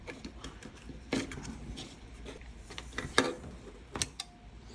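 Sharp mechanical clicks of a smart relay switch turning on and off at irregular intervals, a few distinct snaps standing out over a quiet background hum, close by.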